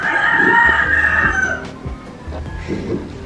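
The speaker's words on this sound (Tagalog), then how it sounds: "Ingay naman ng manok." A rooster crows loudly and close by in the morning in Baguio, one long drawn-out call, followed by quieter background noise and faint clucking.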